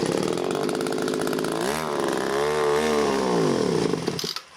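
Two-stroke engine of a Stihl FS 51 string trimmer with a carburettor needing work, running loud and close, its revs dipping and climbing in a couple of waves before cutting off at the end.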